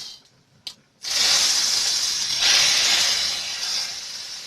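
Liquid poured into a hot pot of plantain sauce erupts into a loud, steady hiss of steam after a short quiet lead-in with a small knock, the sizzle sustained close up with no talk.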